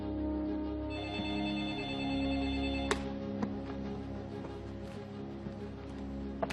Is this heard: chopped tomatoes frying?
no